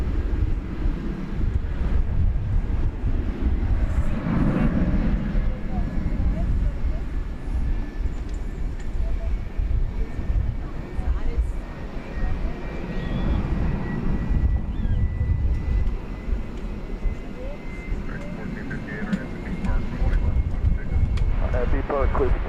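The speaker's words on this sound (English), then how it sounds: "3905 going to the UPS Louisville Worldport, Airbus A300" A UPS Airbus A300 cargo jet from 2002 at DFW Airport at night gives a deep, continuous rumble with wind buffeting, while radio voices talk over it.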